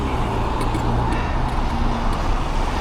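Road traffic rumbles past an e-bike, a steady broadband roar of car and truck engines and tyres with a few brief higher ticks and no clear gaps.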